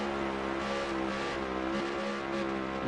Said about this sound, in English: He's full throttle, and it sounds like he's just stomping that pedal in and out.